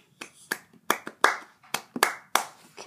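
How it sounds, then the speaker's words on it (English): A single person clapping along by hand on a talk show, about eight sharp claps in an uneven rhythm over a quiet background, close and fairly loud, with no talking. "Come on, I'll clap along with you."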